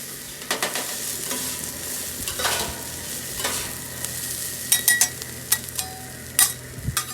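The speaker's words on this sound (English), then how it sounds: "you can see the onions have sauteed a bit" Onions sautéing in a pan during a Sunday brunch cook with beef chuck steak, a steady soft sizzle with occasional louder utensil clicks and stirring scrapes near the end, no one speaking.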